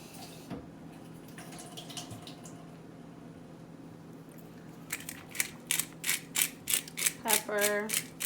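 A pepper grinder turns out pepper for a cast iron skillet pizza, a quick run of rhythmic crunching, ratcheting grinds near the end after a quiet kitchen background.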